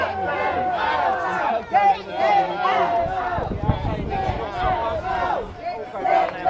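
Dense crowd noise at a protest march in Braintree and Wethersfield, with many overlapping voices, shouts and chatter. It stays loud and continuous throughout, with a brief louder burst midway.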